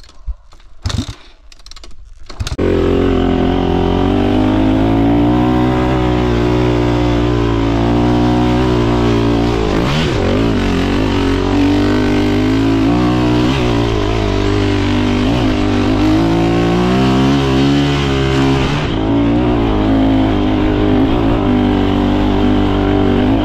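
A motorcycle engine catches after a few brief starting attempts, then runs steadily and loudly at close range with rising and falling revs for the rest of the stretch.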